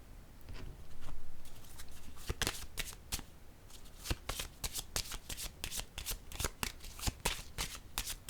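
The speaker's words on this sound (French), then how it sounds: "Je vais déposer une carte sur la richesse." A tarot card reading with cards handled and shuffled close by, a quiet stream of crisp papery riffles and sharp slapping clicks that thickens and quickens toward the end.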